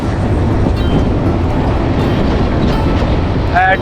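A passenger train in Chattogram district, Bangladesh, heard from inside a carriage as it nears a platform: a steady, loud rolling rumble throughout, with a brief tonal call rising near the end.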